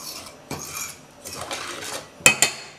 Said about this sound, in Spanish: Y le vamos a dar a revolver muy bien.